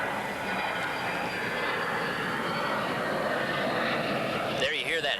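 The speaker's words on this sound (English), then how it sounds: "There you hear that airplane going overhead." A steady propeller airplane drone roars overhead, loud and continuous, drowning out a distant crowd murmur at an American Legion baseball game.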